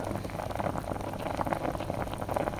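Chicken simmering in fish sauce in a pot over low heat gives a steady, close bubbling hiss, an even rain-like patter of small bursting bubbles that runs unbroken with no voices.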